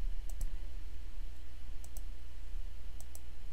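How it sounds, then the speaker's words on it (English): A computer mouse clicks in sharp, close pairs while drawing in Adobe Illustrator, three separate double-clicks spaced apart over a quiet room hum. "So I'll click one time and drag to the side."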